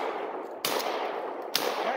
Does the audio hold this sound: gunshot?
yes